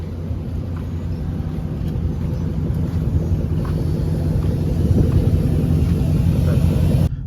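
A Dodge Hellcat in sport mode cruises with a steady low engine drone and heavy wind and road roar, constant and loud from inside, rising slightly toward the end before cutting off.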